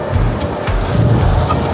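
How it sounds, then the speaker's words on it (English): Wind blowing outdoors beside a Ford Transit van under a darkening sky, a loud, steady rumbling gust with no voices. "the wind is blowing and it looks like it's going to pour down"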